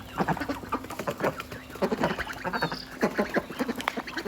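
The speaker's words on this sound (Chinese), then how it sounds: "要是绿头鸭，不是这不是绿头，这就是麻鸭吧？" Domestic ducks, a mottled brown breed rather than mallard, quack repeatedly at close range in a busy, rhythmic series of raspy calls over several seconds, with other fowl mixed in.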